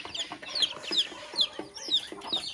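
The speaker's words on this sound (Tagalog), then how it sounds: "Nakatuwang pagmasda naman yung ating mga alagang manok." Domestic backyard chickens being raised for breeding give a string of short, close clucks, repeating about every half second against a quiet outdoor background.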